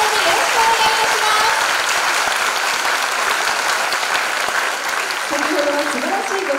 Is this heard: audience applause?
yes